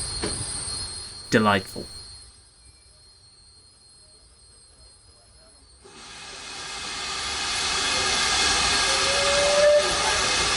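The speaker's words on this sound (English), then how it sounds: "what you can probably hear most is Earlstoke Manor's incessant squeal" Steam locomotive Earlstoke Manor at the Severn Valley Railway in Kidderminster, giving a high, persistent wheel squeal with steady hiss and rumble that builds toward the end, after a brief loud whistle-like burst; a voice speaks briefly.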